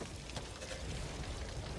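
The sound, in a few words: thunder and rain in Back 4 Blood video game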